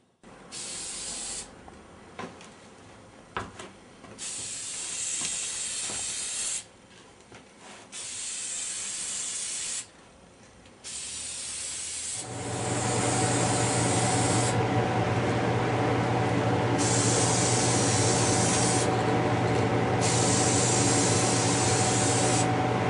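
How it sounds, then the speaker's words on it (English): Aerosol spray paint hisses onto a wooden cabinet in short bursts at first, then settles into a long, steady, loud spray close by with no talking. "now I'm going to start spraying on some coats"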